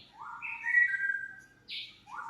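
A green leafbird whistles clear, sliding notes up close, a few bright phrases with short gaps against a quiet background.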